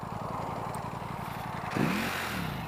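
A 2018 Ducati V4S motorcycle idles with a rapid, lumpy pulse in sport mode, then its throttle is blipped, a sharp rising rev swelling louder near the end before dropping back, close and without talk.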